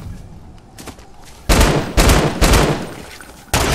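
Gunfire in Fortnite: after a quiet start with a few faint pops, four loud sharp bursts of shots come close and evenly spaced, the last one at the very end.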